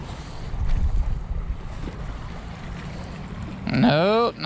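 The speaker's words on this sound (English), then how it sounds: "The waves are definitely moving today." Waves wash against a Jacksonville, Florida shore under steady wind buffeting the microphone, with a sharper burst of surf or splashing near the end.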